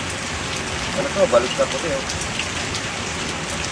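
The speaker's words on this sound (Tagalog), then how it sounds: "Pagkita mo dyan, ang lakas ng ulan." Heavy rain pours down in a dense, even hiss of drops hitting surfaces, steady throughout, while someone speaks briefly over it near the middle.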